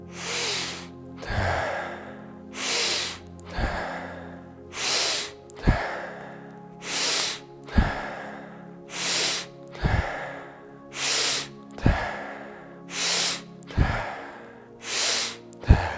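Deep yoga breathing exercise: about a dozen forceful breaths, sharp noisy exhales alternating with softer inhales in a slow, regular rhythm, close to the microphone.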